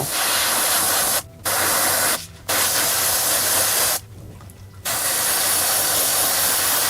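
Aerosol spray paint laying a primer coat on Star Wars Legion stormtrooper miniatures, with loud, close hissing bursts broken by three brief pauses, no voices.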